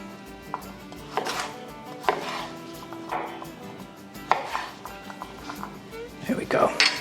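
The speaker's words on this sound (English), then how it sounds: "I'm just gonna kind of chop that up a little bit." A knife chops garlic on a cutting board in a home kitchen, a series of crisp, uneven thuds in quick clusters, close and fairly loud, with a person talking intermittently over the chopping.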